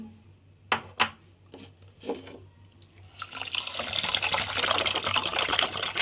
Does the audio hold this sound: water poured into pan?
yes